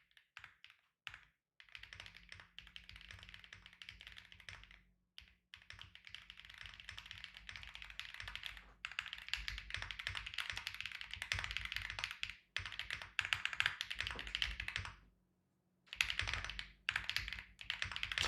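A computer keyboard clatters with fast, continuous typing close up, bursts of dense key taps separated by brief pauses, with no one talking.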